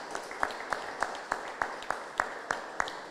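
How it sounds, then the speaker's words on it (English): An audience at a mural event claps in a warm round of applause, with evenly spaced louder claps standing out over a fainter wash of hands, heard from a moderate distance. "our own local Congressman, Al Green, give him a warm round of applause"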